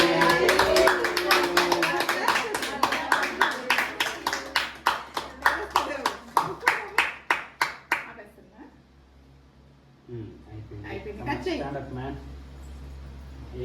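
Rhythmic hand clapping from a small group at a child's birthday celebration at home, steady claps building through the middle then stopping, with voices singing and talking over it.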